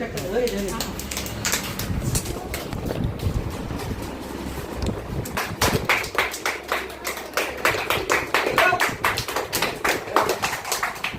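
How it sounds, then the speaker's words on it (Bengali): Students at a school prize-giving break into loud, sustained clapping that swells halfway through, amid room noise and voices. "তো সবাই জোরে হাততালি দিবে"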